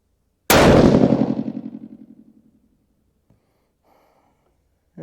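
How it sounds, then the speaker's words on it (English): A single loud rifle shot fired while checking scope zero, a sharp blast at close range followed by a long ringing decay, then near silence with a faint click. "One shot at the bottom right."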